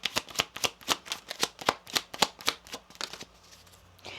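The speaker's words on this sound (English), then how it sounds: "2 cards here for the middle row." Tarot cards handled and laid out in a quick series of crisp, evenly spaced flicks and snaps, about a dozen close strokes that slow and fade toward the end.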